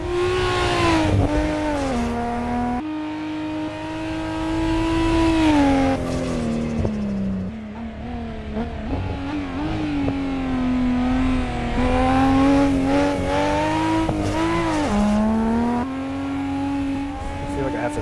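A Tesla with all-wheel drive climbs Pikes Peak in the Assetto Corsa racing game. Its loud electric-motor whine rises and falls continuously as it speeds up and slows for corners, with brief lulls.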